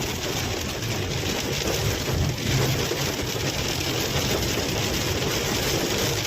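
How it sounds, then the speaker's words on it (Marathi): Heavy rain and strong wind during a drive in Beed district, a dense, continuous roar of rain and gusts with a low engine-like rumble underneath, steady and loud for the whole stretch. "बघा कसला पाऊस आणि वारा आहे."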